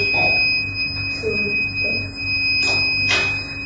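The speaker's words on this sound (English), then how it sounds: "the water gets sprinkled, the buzzer produces a sound" Buzzer alarm of an IoT forest fire sprinkler system sounding as a steady high electronic tone that runs continuously, with water spray and clattering noises mixed beneath it.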